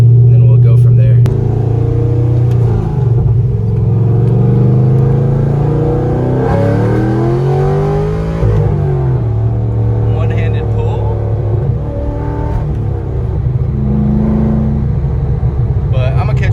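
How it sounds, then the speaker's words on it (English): Chevrolet Corvette engine pulling hard in first gear, a loud continuous low rumble that rises and falls in pitch for the whole stretch, with voices talking over it. "we'll grind first gear all the way out"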